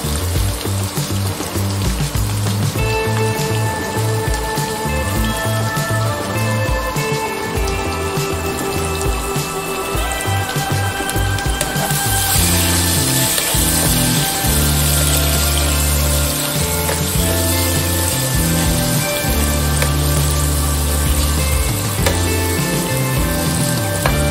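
Vertically sliced onion frying in a pan for egg bhurji, a loud continuous sizzle that grows brighter and fuller about halfway through and keeps going steadily with no talking.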